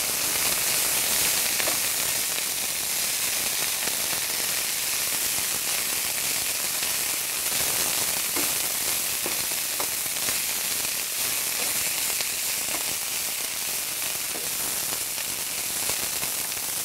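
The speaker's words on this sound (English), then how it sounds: "You can hear it sizzle. And we'll turn it in the oil." Continuous loud sizzling of piracicaba greens with stems and leaves frying in hot oil, a steady crackling hiss with scattered pops, close by and without talk.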